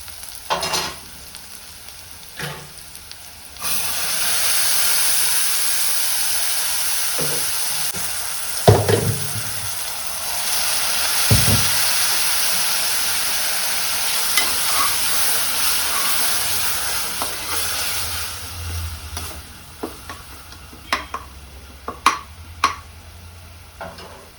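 Steady sizzling of masala spices frying in hot oil for biryani, with occasional scrapes and clinks of a spoon stirring the pan, close and continuous.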